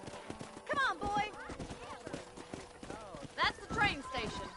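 Horse hooves clip-clop in the Red Dead Redemption video game, a brisk, rhythmic series of hard knocks at close range, heard under people talking in the game.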